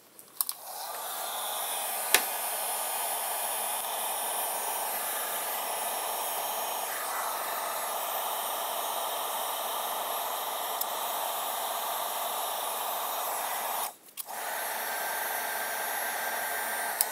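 A hot-air tool heats the adhesive pad on a GoPro mount, a steady loud hiss and blow running almost continuously, with a brief dropout near the end before it resumes.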